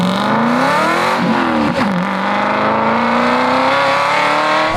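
An Aston Martin's engine revs hard and loud, pitch climbing, dipping briefly in a shift or lift, then rising again in a sustained high-revving howl close by, with no talking.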